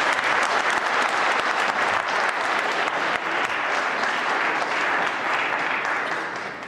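Applause from the audience at a Liberian community meeting in Minnesota, a continuous full roar of clapping hands that holds steady and loud for the whole stretch, with no voices over it.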